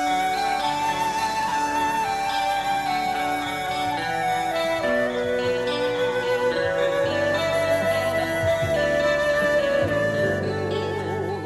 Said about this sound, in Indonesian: ada speaker di dalam. Kalau ada orang, pasti orang Cina yang nyanyi, bukan orang Betawi. Lagunya lagu Cina.